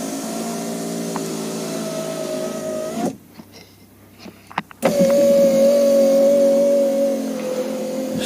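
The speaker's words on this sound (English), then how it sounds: "we should be able to test the window. And it goes up and down" A Porsche 928 power window motor drives the glass up with a steady whine, stops for a quiet moment with a few small clicks, then whines again as the window travels back. The sound is close and loud, with no talking.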